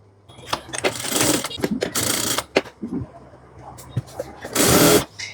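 A sewing machine runs in several short stitching bursts while topstitching a pocket onto a pajama, close and fairly loud with gaps of handling noise between runs.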